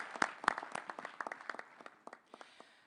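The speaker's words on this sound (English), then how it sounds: "Let's give ourselves a round of applause for the wonderful day we have spent." Audience applause at the G20 summit in Johannesburg: a crowd claps steadily at a moderate distance, fairly quiet, with a few sharper claps standing out.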